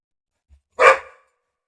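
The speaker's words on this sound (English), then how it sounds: "the dog is saying hello tonight" A single sharp dog bark rings out close and alone, preceded by a faint thump, then silence.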